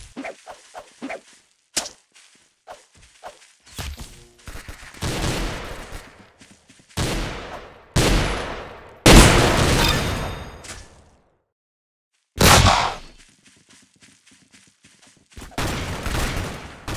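Rapid bursts of minigun fire in the online shooter Arsenal, loud sustained volleys lasting a second or two each, separated by short gaps and near-silence, with crisp high-pitched crackle throughout.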